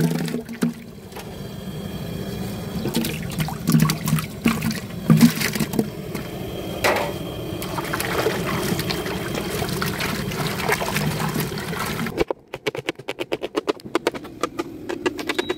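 Hot water left from boiling a large 15 kg batch of chicken is poured into a big pot of chicken curry, making a steady splashing, trickling pour for about twelve seconds before it stops abruptly, followed by quieter clatter.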